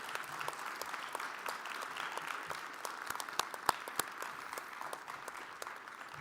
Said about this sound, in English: please give them a big round of applause and congratulations